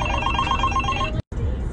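A telephone bell rings in a steady repeated pattern, fairly loud and close, then cuts off abruptly into a brief silence before background sound returns.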